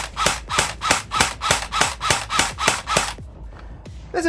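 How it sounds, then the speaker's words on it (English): Electric VFC airsoft gun firing semi-auto at a low rate, about eleven sharp evenly spaced shots with a grinding whir of rubbing gears, loud and close, then a pause and a faint mechanical noise. "There's a little bit of rubbing on the gears there. Bit of a low rate of fire as well."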